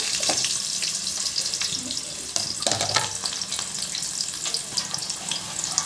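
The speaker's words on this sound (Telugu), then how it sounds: "ఉల్లిగడ్డలు లావు లావు అంటే మరీ లావు కాదు మరీ సన్నం కాదు వేయించుకోండి" Sliced onions and green chillies fry in hot oil for a gongura egg curry, giving a continuous bright sizzle broken by spoon scrapes and stirring clatter in the pan, close up and with no talking.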